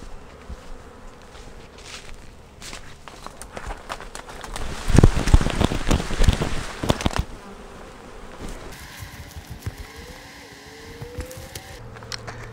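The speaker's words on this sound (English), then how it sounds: "the majority of those bees now are flying around the hive" A dense buzzing of a honey bee swarm flying around a hive hums throughout, with louder rustling and thumping near the middle, close by.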